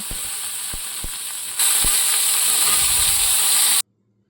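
Pointed gourd frying in oil in a wok, a loud hissing sizzle that swells suddenly partway through, with a few light utensil taps, then cutting off abruptly to silence.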